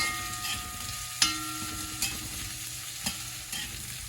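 Onions cooking in a pan with plenty of fat give a quiet, steady sizzle, broken by a few sharp clicks and scrapes of stirring.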